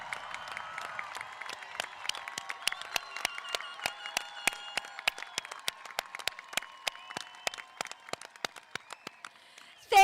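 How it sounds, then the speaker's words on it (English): Scattered applause from a distant crowd at a high school commencement ceremony, individual claps sharp and irregular over a faint hum, continuing for about ten seconds. "Thank you for your applause"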